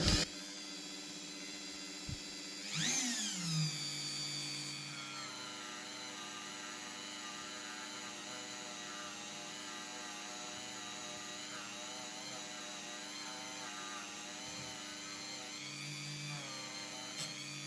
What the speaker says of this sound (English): So I've got this brush in the Dremel, and I'm just going to run the pieces over the brush.